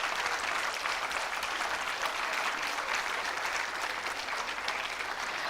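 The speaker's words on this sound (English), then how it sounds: "Can we hear a round of applause?" A convocation audience for a university management program in Mumbai breaks into sustained, dense applause, steady and loud throughout with no voices standing out.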